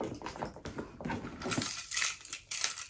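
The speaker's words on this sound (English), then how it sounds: "Keys." Keys jingled and dropped into a round Telfar Circle bag, a few metallic clinks and rattles, close and fairly quiet, mixed with soft rustling of the bag.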